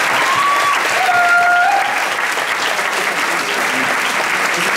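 Steady applause from an opera festival audience in a theatre, loud and continuous, many hands clapping at once with no voices standing out above it.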